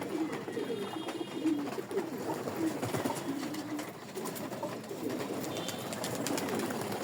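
Soft, low pigeon coos repeat over steady outdoor ambience, with no speech.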